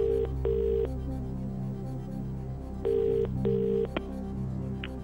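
A telephone rings in two pairs of electronic trills with a short gap between them, placed for a phone-a-friend call on a British TV quiz show, with a low studio hum underneath.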